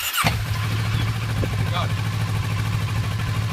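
A Kawasaki Versys 650 motorcycle engine fires up and settles into a steady low idle, close by and fairly loud, with a brief voice near the start.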